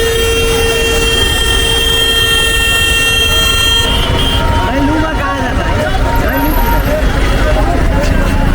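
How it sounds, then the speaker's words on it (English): Old Delhi street traffic with vehicle horns sounding, a long sustained horn tone followed by shorter honks amid the loud roar of the road, with people talking throughout. "you will have all the honking"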